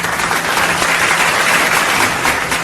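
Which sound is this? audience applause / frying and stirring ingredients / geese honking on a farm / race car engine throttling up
audience applause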